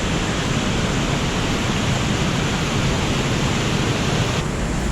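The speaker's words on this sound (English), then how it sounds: "Maybe the waterfall might be too loud" Loud waterfall roar fills the scene near a riverside trail, a steady broadband rush of falling water that stays constant throughout with no voices.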